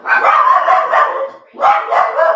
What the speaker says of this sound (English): Our dogs are right on cue for that barking.